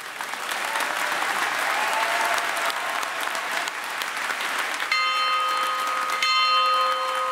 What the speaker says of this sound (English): As the market bell chimed